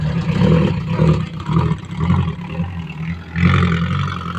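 Single-cylinder Kubota engine on a farm-style vehicle revving with an opened exhaust pipe, a loud close chugging, pulsing engine that surges several times and then climbs again near the end.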